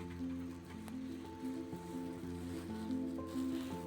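Water gushes out of a year-old borewell during bore washing, a steady rushing flow with a humming machine drone underneath, continuous and moderately close with no speech.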